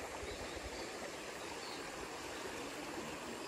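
A river flows steadily nearby, its broadband rushing water loud and continuous, with a low rumble underneath and no voices.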